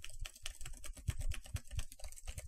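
Keys on a computer keyboard are tapped in a quick, irregular burst of close, soft clicks, quiet and alone.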